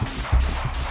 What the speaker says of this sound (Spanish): empezaron a sonar los disparos. Una ráfaga seca, rápida,